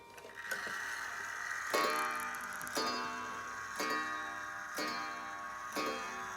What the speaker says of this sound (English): Ansonia kitchen clock